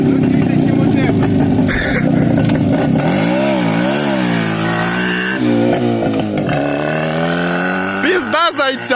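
An Izh Jupiter 5 motorcycle running without baffles in a forest, its loud raw engine revving and rising in pitch through sustained roaring, with people talking over it near the end.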